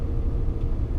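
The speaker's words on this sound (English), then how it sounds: "There's a tipper lorry next to us." A tipper lorry idles alongside a car in traffic, heard from inside the cabin as a steady, deep low engine rumble with no sharp events, constant and fairly close throughout.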